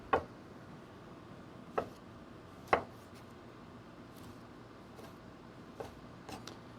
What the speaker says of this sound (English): gonna chop a little tomato so I can put a little color on the top